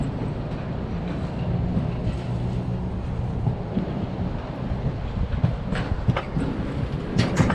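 Smoky Mountain Alpine Coaster cart running along its track at night, a steady close rumble and rattling clatter with rushing wind buffeting the microphone, a few sharper clicks near the end.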